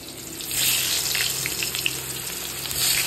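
Cut potatoes sizzle and crackle in hot oil in a pan, a close, bright frying hiss that swells and eases slightly as the pieces settle, with no talking.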